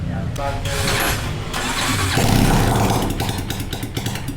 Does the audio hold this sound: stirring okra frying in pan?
no